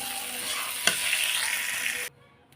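A dry bitter gourd and potato curry stirred in hot oil, a close bright sizzle with scraping strokes and one sharp knock, cutting off abruptly near the end.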